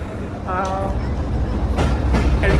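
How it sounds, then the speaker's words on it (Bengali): A passenger train pulls into a railway station in Egypt, its rumbling rolling noise rising steadily and close, with brief tonal squeals and hissing bursts over the din. "এই যে আপনারা দেখতে পাচ্ছেন আমাদের ট্রেন চলে আসছে"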